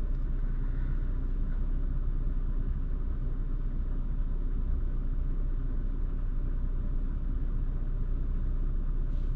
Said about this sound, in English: I keep hearing truck sounds.